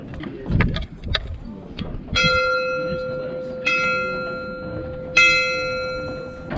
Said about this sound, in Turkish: Çanlar bunlar.